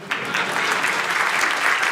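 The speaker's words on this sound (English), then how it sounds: "Ladies and gentlemen, round of applause" Audience at a tech talk gives a short, lively round of applause, dense steady clapping from beginning to end.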